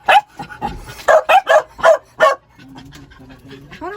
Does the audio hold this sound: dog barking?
yes